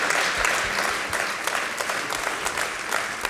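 A studio audience claps for a young violinist, a dense, loud burst of applause with steady hand claps throughout and no talk over it.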